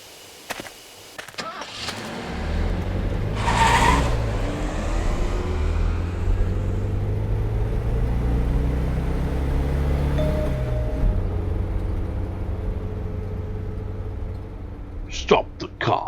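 A car engine in the video game Death Mark turns over and settles into a steady idle hum that holds for several seconds before cutting off, with a few clicks at the start and end while people talk over it.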